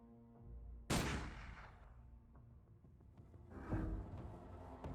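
Gunfire in Urban Strife: one sharp, loud close shot rings out and decays, then a second burst of shots follows with heavy low rumble, with no talk.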